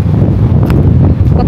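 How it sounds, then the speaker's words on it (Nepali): Strong wind blows along a waterfall trail and buffets the microphone in a dense, continuous low roar that stays loud throughout. No voices are heard. "कत्रो हावा चलेको आमामा, उडाउला जतिकै छ त।"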